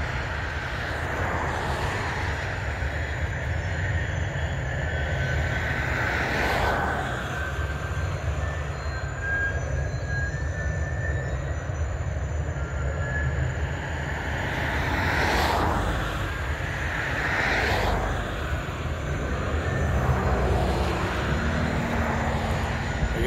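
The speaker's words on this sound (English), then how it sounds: "I guess that's like a wood chipper or something. He's feeding big bundles of logs into it." A wood chipper being fed large bundles of logs gives a steady, loud mechanical roar that runs throughout, rising into a few bursts of heavier grinding along the way, with no talk over it.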